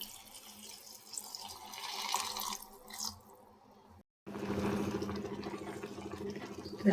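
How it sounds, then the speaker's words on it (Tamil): Water is poured from a tumbler into a cooking pot of sautéed broad beans with salt and turmeric, a close splashing trickle that stops briefly partway and then resumes more fully. "தண்ணி ஊற்றிக்கலாம்."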